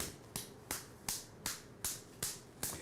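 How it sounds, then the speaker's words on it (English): A foot being clapped with the bottom of a bottle, seven sharp slapping taps in a steady rhythm about every third of a second, close and crisp, each with a brief decaying ring. "So I'm going to clap my foot,"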